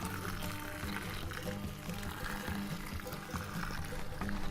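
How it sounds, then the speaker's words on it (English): Water pouring steadily from a hose or can to flood freshly transplanted lavender rootings at an off-grid homestead, a continuous splashing trickle into soil that runs unbroken and fairly loud throughout. "So, time to water these guys in. I'm going to flood them in to really make sure that they're"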